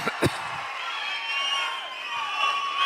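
At a political rally in Markapuram, a crowd cheers and shouts with a rising, sustained roar after a couple of sharp claps at the start, steady and moderately loud with no clear talk.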